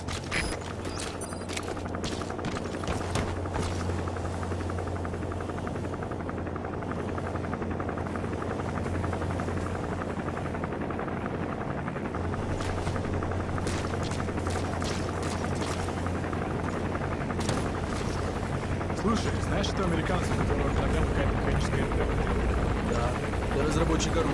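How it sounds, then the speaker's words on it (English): An enemy gunship helicopter in Metal Gear Solid 5: The Phantom Pain gives a steady, loud rotor drone with a low hum that runs the whole way through, while bursts and booms of gunfire break in now and then. "That's an enemy gunship."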